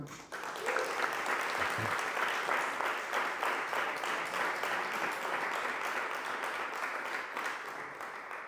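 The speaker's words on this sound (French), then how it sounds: "je vous prie, mesdames et messieurs, d'accueillir chaleureusement avec nos applaudissements M." A conference audience at the Sorbonne gives steady, warm applause, a dense wash of clapping that holds at an even level for several seconds before easing slightly, heard a bit distant in the hall.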